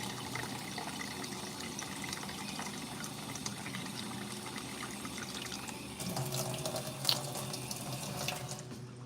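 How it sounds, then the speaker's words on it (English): Tap water runs steadily into a sink for several seconds, a continuous close splashing hiss that grows slightly louder and busier toward the end, with no one speaking. "We're just gonna pour water on top."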